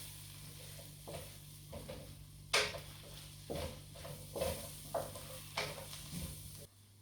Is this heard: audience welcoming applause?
no